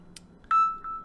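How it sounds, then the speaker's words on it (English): A phone notification chime for a newly created race: a brief faint beep followed by a clear, sustained electronic tone and a softer second tone, alone with no talking. "that was my phone letting me know that a race had just been created"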